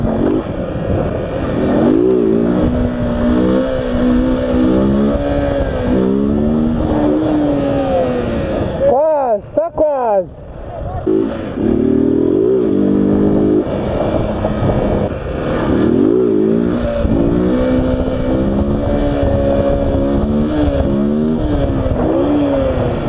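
A motorcycle engine revving hard and up close in repeated rising and falling bursts, with a sharp blip-and-drop pattern near the middle and continuous throttle work around it.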